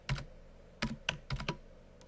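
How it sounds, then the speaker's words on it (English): Computer keyboard typed in short bursts while entering a login username and password, a handful of close, quiet key clicks with brief pauses between. "Type in my username and my password."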